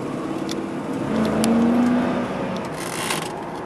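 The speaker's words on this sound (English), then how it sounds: "All I know is I love the way a 350 runs." A 1994 Cadillac Fleetwood Brougham with a 5.7-liter 350 V8 runs while driving, a steady smooth engine drone that swells briefly as it pulls, heard from inside the car without talking.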